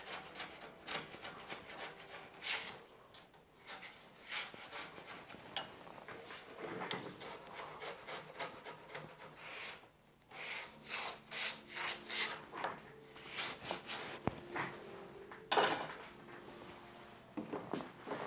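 Coarse 60-grit sandpaper rasps against wood in quick, repeated back-and-forth strokes, with short pauses between bursts and no voices.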